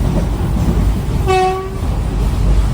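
An Intercity Express train from Tirupati to Tiruvannamalai rumbles steadily along the tracks at a crossing, and a short horn blast sounds partway through over the continuous low roar.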